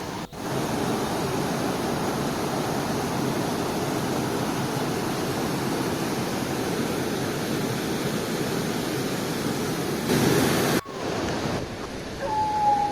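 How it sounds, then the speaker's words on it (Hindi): Steady, broad rushing water roars continuously and loudly from a nearby mountain waterfall beside a high-altitude road, with a brief break and a faint high tone near the end. "ये झरना है"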